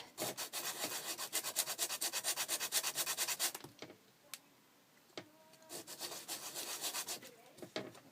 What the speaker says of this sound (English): See if it sands right off.